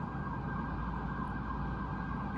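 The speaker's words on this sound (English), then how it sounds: "Okay, sorry for the siren outside." A steady, droning siren heard at a distance from near a large hospital, a continuous low wash of sound with no break and no voices.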